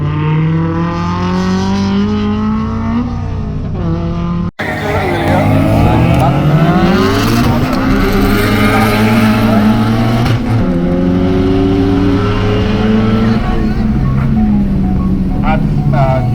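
A loud turbocharged race car engine, tuned with a MaxxECU, revs and whines at a gymkhana head-to-head event, its pitch sweeping up and down continuously, with voices talking over it.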